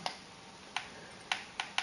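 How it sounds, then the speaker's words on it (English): Sharp, isolated clicks, five or six spaced irregularly apart and close by, like keys being pressed on a computer keyboard, with a faint steady hiss between them. "I hate that clicking."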